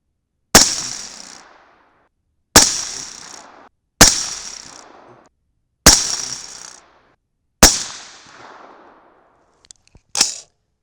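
Five sharp, loud rifle shots from a 6.5 Grendel firing 129gr Nosler Accubond loads crack at roughly two-second intervals, each with a decaying echo, followed by a short burst of noise near the end.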